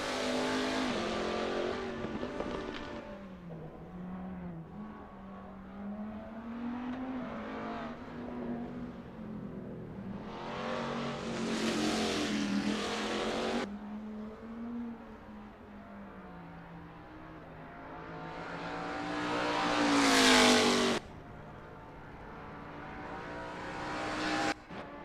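Race car engine on a practice out-lap at Silverstone in Assetto Corsa, a GT Legends car warming its tyres, revving up and down through the gears, loud with rising and falling pitch and hard acceleration bursts.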